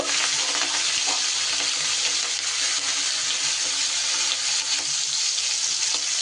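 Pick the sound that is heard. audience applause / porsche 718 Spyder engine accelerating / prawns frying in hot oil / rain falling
prawns frying in hot oil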